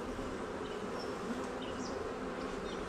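A dense, constant buzz of honeybees being tipped into a hive box in a garden, close and even with no pauses.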